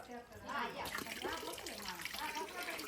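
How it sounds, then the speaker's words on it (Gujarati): Water runs steadily from a household tap into a basin, a continuous splashing gush with people talking over it throughout. "હર્ષિતો નળ બંધ કરી દો નળ બંધ કરો"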